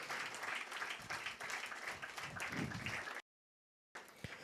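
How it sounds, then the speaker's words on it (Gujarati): An audience claps steadily at a seminar welcome for an IT career event, a dense sustained applause that cuts off briefly and then resumes. "જોરદાર તાળીઓનો ગડગડાટ બંધ ન થવો જોઈએ"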